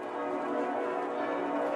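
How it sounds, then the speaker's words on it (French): Church bells of the Lourdes Sanctuary ring out together, a dense, sustained wash of overlapping metallic tones heard loud and continuous without pause. "Écoutez nos cloches, elles battent, elles vibrent"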